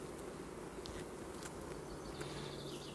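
Honey bees in an open hive hum in a continuous low drone, soft and close, with a few brief buzzing passes standing out over the steady murmur and no voices.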